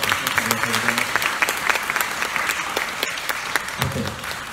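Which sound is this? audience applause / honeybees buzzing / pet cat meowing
audience applause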